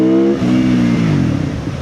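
A Benda 707 motorcycle engine revs loud and close, its tone climbing then dropping and rising again in a steady rumbling sweep with no talk.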